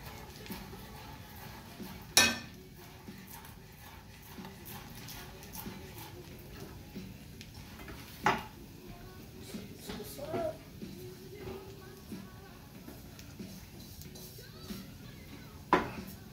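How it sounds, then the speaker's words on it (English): A knife slices scallions on the bias on a cutting board, giving sparse, faint taps and a few sharper knocks scattered irregularly over a quiet kitchen background. "we're gonna cut some long cuts on the bias"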